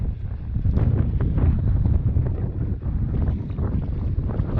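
Strong wind buffets an outdoor microphone during a fishing casting session with a Curado DC baitcasting reel, a steady loud low rumble that continues without break and with no voices over it.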